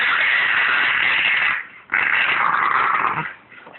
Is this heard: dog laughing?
yes